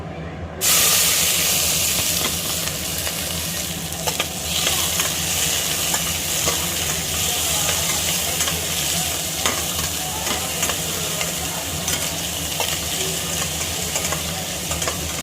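Onions and cloves frying in oil in a pan for chicken biryani. A loud, steady, close sizzle and hiss sets in after a brief silence and runs throughout, with light stirring scrapes and no voices.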